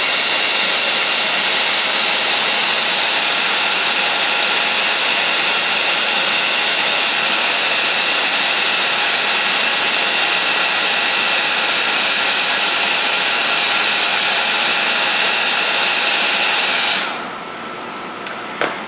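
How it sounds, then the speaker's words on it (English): A craft heat gun runs steadily as it sets embossing powder, giving a loud continuous blowing whir close by that holds for about seventeen seconds and then cuts off, leaving near silence with a couple of small clicks. "Next, I'm going to use my craft gun. And once it gets hot, I'm going to use it to set that embossing powder."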